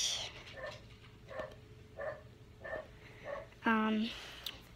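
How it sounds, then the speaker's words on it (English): A dog barks repeatedly in short, evenly spaced yaps from a short distance, ending in a longer, higher yelp. "that is my dog barking"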